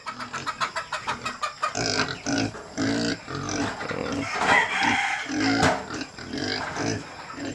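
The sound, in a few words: pig and chickens on a farm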